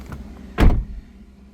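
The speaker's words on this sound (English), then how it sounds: "Open and close the door." A single solid thunk of a 2012 Chevy Cruze door being opened and shut nearby, short and fairly quiet, with no talking.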